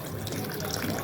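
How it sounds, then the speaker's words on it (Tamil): Tamarind water pours into a pan for a dried-fish curry, a steady continuous splashing stream of liquid at close range, running without pause. "இப்போ வந்து புளி தண்ணி கரைச்சி வச்சுருக்கேன், அதை ஊற்றலாம்"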